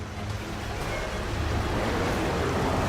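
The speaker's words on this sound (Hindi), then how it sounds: "समुद्री लहरें लगभग 40 फीट ऊंची उठकर बहुत तेज वेग में मंदिर की ओर चल पड़ती हैं" Broad, steady roar of towering sea waves surging toward a seaside temple, a dense continuous rumble with wind, loud and unbroken throughout.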